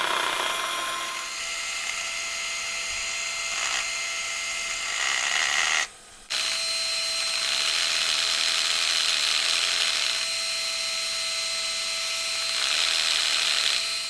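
Wood being sanded in a professional cabinet shop with fine sandpaper, working from 80 up to 320 grit: a steady, close whining drone that runs almost unbroken, cutting out briefly once partway through before resuming.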